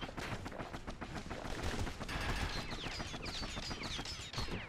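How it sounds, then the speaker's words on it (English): Rapid bursts of gunfire from dual slinger pistols in the video game Bastion, dense quick-fire shots in a fast stuttering rhythm lasting several seconds, loud and close with no talking. "Know what's better than having a slinger pistol in a fight? Having two."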